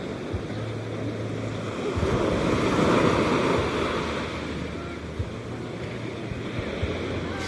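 Surf rolls onto a beach as a continuous broad wash that swells in the middle, with wind buffeting the microphone and no voices.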